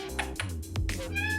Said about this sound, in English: Meow. That's Princess.